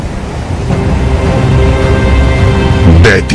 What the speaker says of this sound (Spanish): Es la cascada más grande de Europa.